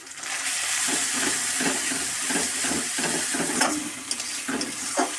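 Mustard, cumin and dry chili pastes fry in a pan, giving a steady close sizzle broken by rhythmic scrapes and stirring knocks.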